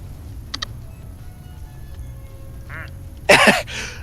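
Toy plastic duck squeaks in Placid Plastic Duck Simulator, a quiet stretch with a few small clicks and then a loud, brief cluster of squeaky quacks near the end, followed by a softer echo.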